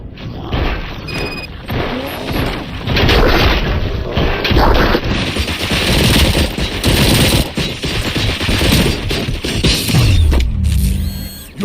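Sustained automatic gunfire and bursts of shots in the RoboCop: Rogue City video game, loud and dense throughout, mixed with booms, crashes and mechanical clatter, with no talk over it.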